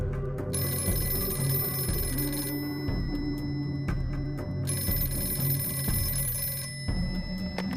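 A telephone bell rings in repeated bursts, loud and close, with short pauses between the rings, used as an audiobook sound effect; no one talks.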